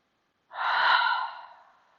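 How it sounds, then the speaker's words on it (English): One long exhale streams out as an airy, breathy sigh during handstand-prep breathing, close and fairly loud, fading gradually into silence. "And then for 3 breaths, inhale through your nose. And exhale, sigh your breath away."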